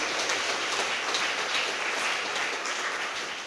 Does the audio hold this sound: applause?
yes